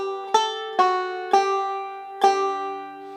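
A banjo plays the B part ending of Turkey in the Straw, alone with no talk: four clear plucked notes or chords, each with a sharp bright attack and a short ringing decay, at a moderate, even pace.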